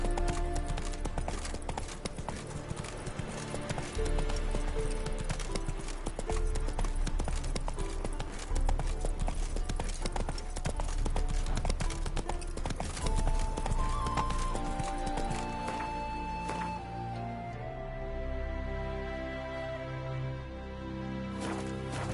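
A horse in a video game galloping with rapid, steady hoofbeats and occasional neighs, loud and close over background game music, the hooves slowing toward the end.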